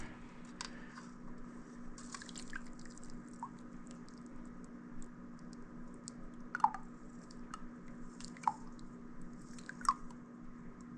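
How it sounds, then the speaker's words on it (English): Soaked elderflowers pressed through a kitchen strainer to make elderflower syrup give faint, soft squishing and light crunching, with a few sharper clicks near the end against a steady low hum. "I want to make sure I press these flowers to get all of that delicious flavor out of there"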